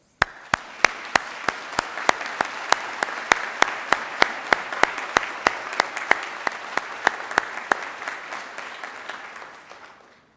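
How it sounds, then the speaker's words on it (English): Graduation ceremony audience in the Whitla Hall gives a steady round of applause, with distinct loud claps in a regular rhythm throughout before fading out at the end. "let us give your friends and family here in the Whitla and those online a well-deserved round of applause"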